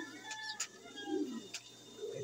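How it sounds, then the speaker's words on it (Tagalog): Fancy pigeons coo softly in low murmuring bursts, faint and close, with a few sharp clicks and a steady hum behind them. "Magandang ibon, malaking ibon mga kapatid"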